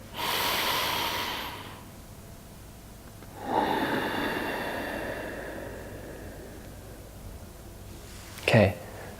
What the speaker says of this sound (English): breathing in, my mouth is closed through my nose